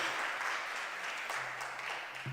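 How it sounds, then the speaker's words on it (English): Steady applause from a crowd, a dense wash of clapping lasting a couple of seconds at moderate distance. "Can we have one more round of applause for Kaveh and Hala and Tracy?"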